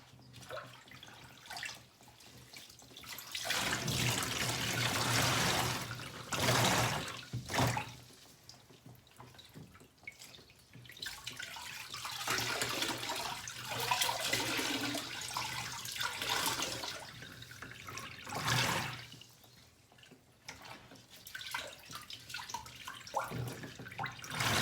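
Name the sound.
water squeezed from washed fleece dripping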